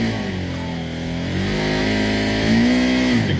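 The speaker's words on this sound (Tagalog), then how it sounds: "So kapag ni-rev mo siya hanggang 7," A CFMoto 800NK motorcycle engine revs loudly and close, its pitch climbing steadily and holding high near the top of the rev range, with no talk over it.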